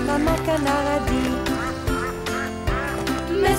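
A mother duck quacks in a French children's song. Several nasal quacks sound over bright sung music and accompaniment, loud and upfront.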